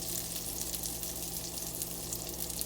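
Salmon fillet frying in oil and butter with garlic and lemon, a steady close crackling sizzle with fine spitting pops, no voices.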